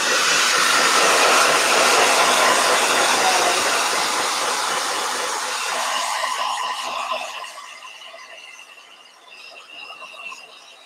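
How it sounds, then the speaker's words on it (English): Blow dryer runs with a loud, close, broadband whooshing roar and a faint whine, then weakens and fades unevenly over the last few seconds. "Blow dryer."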